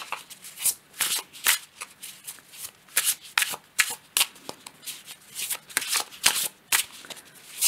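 A deck of astrology cards is shuffled by hand, a close run of crisp riffling bursts in a quick, uneven rhythm with no talking.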